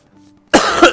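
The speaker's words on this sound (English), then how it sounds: "Pardon my cough." One loud, close cough bursts out after a brief quiet moment, harsh and breathy.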